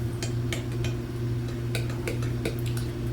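Spoon stirring shredded coconut into a cream sauce for banana coconut cream shrimp, a series of quick, light clinks and taps against the pot over a steady low hum.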